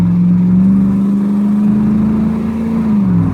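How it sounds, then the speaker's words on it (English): A 2007 Ford F150 engine with an exhaust manifold leak runs steadily and close up, a loud low drone that holds one pitch before dipping near the end, with no voices over it. "I have an exhaust manifold leak."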